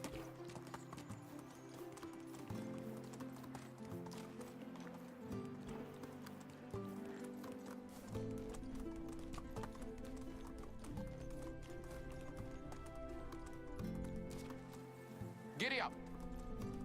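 A horse gallops in the video game Medieval Dynasty, its hooves clip-clopping in a steady rapid rhythm over game music, with a person talking over it and a brief neigh near the end.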